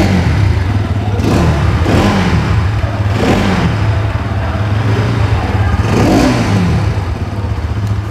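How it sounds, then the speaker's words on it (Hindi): A 2023 Bajaj Pulsar NS200 motorcycle with an underbelly exhaust idles steadily, then blips its throttle in four or five sharp revs spaced across several seconds. Each rev rises quickly and settles back to the idle. The sound is close and loud with no talk. "एक बार एग्जॉस्ट नोट मैं आपको सुना दे रहा हूँ।"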